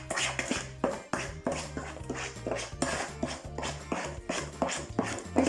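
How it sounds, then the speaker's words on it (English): Cupcake batter of butter, eggs and sugar being mixed in a bowl, a steady run of rhythmic scraping and clinking strokes of utensil against the bowl, close and fairly clear with no talking. "Let's just mix it and see how it blends together."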